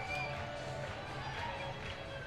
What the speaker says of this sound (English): Still singing and clapping and dancing.